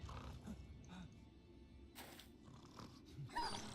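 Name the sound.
armored war dog in video game Battle Brothers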